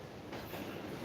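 Hurricane Nicole's wind roars outside, a steady, continuous, train-like rush heard from indoors behind windows that do not fully shut, with no talk.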